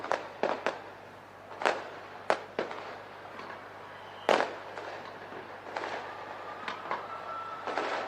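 Fireworks burst in a series of sharp cracks and bangs at uneven intervals, some louder and nearer, others fainter in the distance, during New Year celebrations in Auckland.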